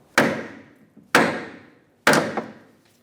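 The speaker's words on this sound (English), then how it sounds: "Let's give this a couple loving bonks to break it free" Three sharp metallic hammer strikes, evenly spaced about a second apart, pound on a rear forward lower control arm bolt of a 1994-1997 Honda Accord, each blow ringing briefly before fading, loud and close with no talk.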